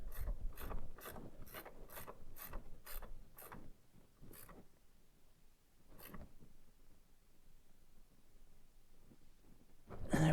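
Ratchet tightening a bolt on the V8 throttle linkage of a Chevy II Nova, a quick run of about ten crisp clicks, then a few slower ones, close and quiet with no talk.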